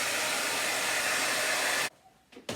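A hair dryer blows steadily to dry silver leaf gilding on furniture, a loud continuous whoosh that cuts off abruptly near the end, followed by a brief quiet and a short restart.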